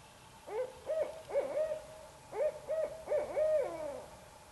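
A barred owl hoots by day at an archaeological excavation site in the woods, giving two clear rhythmic bursts of several loud, close hooting calls with a short pause between them and no talking.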